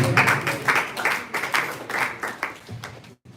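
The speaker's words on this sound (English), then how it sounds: "Can you clap for him, please?" An audience claps at a graduation ceremony for a graduate named William, a moderate burst of hands clapping in uneven pulses that thins out and stops near the end.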